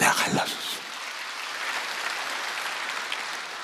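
A church audience breaks into applause, the clapping loudest in the first moment and then settling into a steady, fairly faint patter that carries on without talk.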